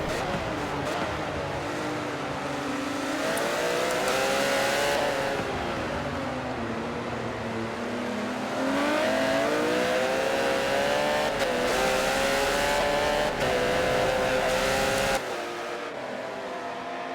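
Porsche RSR race cars at Silverstone at night in a racing game, engines revving and shifting up through gears as they chase each other closely, loud and sustained, with a commentator speaking over the noise.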